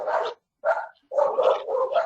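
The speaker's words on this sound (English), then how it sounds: "I'm sorry about the dogs" Indoor dogs bark in three quick bursts of sharp, close barks with short pauses between them.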